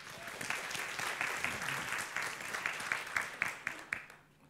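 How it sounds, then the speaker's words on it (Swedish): An audience at a museum lecture gives a short burst of applause, many hands clapping together and then thinning into a few distinct claps before fading out, with a little talk faintly underneath. "Vi ger henne en applåd tycker jag."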